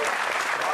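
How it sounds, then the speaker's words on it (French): A television studio audience claps in a brief, dense burst of applause, steady and fairly close throughout. "Allez, on peut applaudir."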